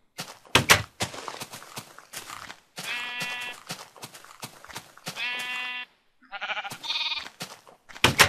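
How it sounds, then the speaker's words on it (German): Sheep in Minecraft bleat repeatedly, several clear, loud, game-style baas separated by short thuds and footstep clicks, with brief silences in between. "Herkommen, Schaf."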